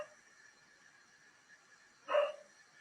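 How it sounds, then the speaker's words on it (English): A dog gives a single short, faint bark in a quiet indoor room over a steady low hum. "I don't know if you can hear my dog barking like a mad thing."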